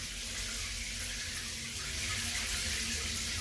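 Water runs steadily from a Sikebang shower heater, a constant hiss of flowing water at moderate volume with no talk over it.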